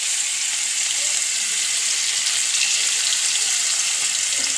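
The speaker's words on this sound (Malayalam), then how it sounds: "കായ വയ്ക്കാനുള്ള ചട്ടി വെച്ചു. അപ്പോൾ അതിൽ ഉള്ളി ഇടുന്നു." Onions fry in a pan for a bitter gourd stir-fry, a loud, even, hissing sizzle that runs without break from start to finish, with no talking.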